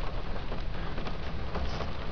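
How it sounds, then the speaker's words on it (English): Heavy rain drumming on the roof of a parked car, heard from inside as a dense, continuous hiss and patter at a steady loud level, with no voices. "if you can hear the rain coming down on the roof of my car or not"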